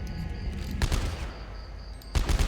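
A Dead Space 3 weapon fires two rounds at once, with two sharp loud blasts well apart, one near the start and one near the end, over game ambience.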